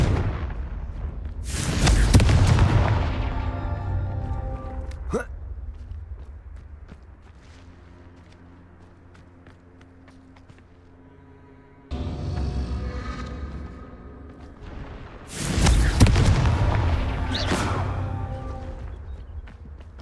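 Confringo fire spell blasts in Hogwarts Legacy on PS5: two loud booming explosions a dozen seconds apart, each a sharp burst followed by a rumbling decay, with quieter mechanical creaks and footsteps between.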